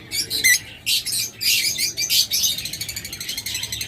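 A pair of opaline pet birds chirp inside a cage, giving bursts of high, bright tweets and calls and then a rapid, steady run of small chirps, close and fairly loud, with no talking.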